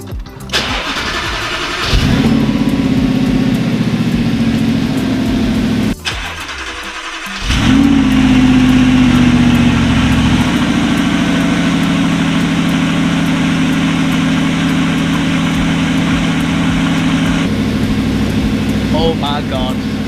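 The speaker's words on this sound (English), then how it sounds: "So let us start her up. This is cold start." An Audi R8 V8 S-Tronic cold-starts, briefly cranks, restarts with a loud rev flare, then settles into a high, steady cold idle that drops slightly in pitch, close and loud throughout.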